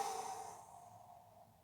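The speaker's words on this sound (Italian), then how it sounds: "Espiro sulle braccia." A single long exhale during a breathing exercise, a soft airy sigh that starts close and fades away gradually, with no talking.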